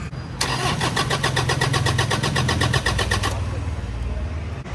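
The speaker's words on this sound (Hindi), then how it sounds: "कार को पता नहीं क्या हो गया, स्टार्ट नहीं हो रही है।" A car engine cranks repeatedly, its starter whirring in a rapid, even rhythm that stops abruptly after about three seconds without catching, heard close and loud.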